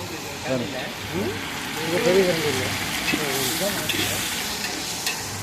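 Tomatoes sizzle and fry in a pot for seeraga samba chicken dum biryani, a steady close crackle with stirring scrapes throughout, under continuous talk.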